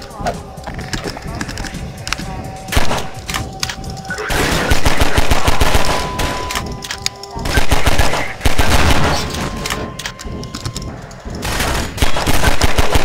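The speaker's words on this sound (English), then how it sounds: "Stop using machine guns, that's not fair." Rapid machine gun bursts from a first-person shooter game, Half-Life 2, rattle loudly in repeated volleys with short pauses between them, while a person talks over the gameplay.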